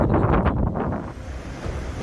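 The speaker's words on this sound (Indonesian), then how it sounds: "angin tiba-tiba kencang" Strong, gusty wind roars over open sea east of Nusa Penida, a steady broadband rush with low rumbling buffeting, as if striking a microphone outdoors, with no voices present.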